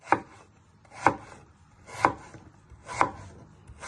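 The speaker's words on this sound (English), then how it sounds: "you want to turn it around and chop it into little cubes" Kitchen knife chopping Mexican picadillo ingredients into small cubes on a cutting board, five crisp, evenly spaced chops about one second apart, close and clear with no talk.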